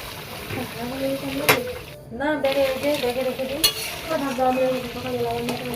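Chicken sautéing with garam masala in a pan: a continuous close sizzle with spatula scrapes and stirring, and a voice talking over it throughout.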